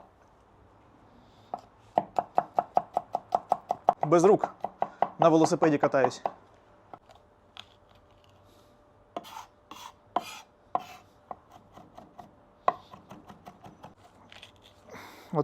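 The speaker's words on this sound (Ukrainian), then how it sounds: "А потім ріжеш. Чесничок ріжеш, кажу." A knife chops garlic on a cutting board in a Ukrainian kitchen while borscht is made in a cauldron, giving fast, evenly spaced sharp taps in bursts, with someone talking between and over the chopping.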